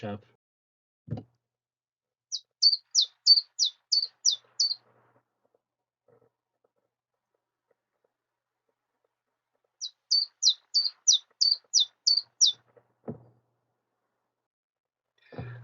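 A bird sings two identical phrases about seven seconds apart, each a quick series of seven or eight clear, high, evenly spaced notes, moderately close and alone against near silence, with faint low thumps at the edges.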